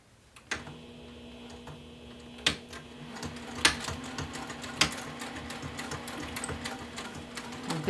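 A sewing machine stitches a bag seam with a 3/8-inch allowance in short bursts of rapid mechanical ticking over a low motor hum, with sharper clicks between runs.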